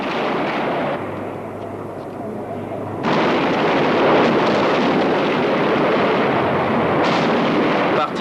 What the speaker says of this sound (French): très vite, les rafales de mitraillettes leur répondent